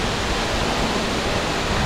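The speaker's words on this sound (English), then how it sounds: "And that's a waterfall." A waterfall in Laos or Cambodia roars as a dense, steady rush of falling water, loud and unbroken, with no voices over it.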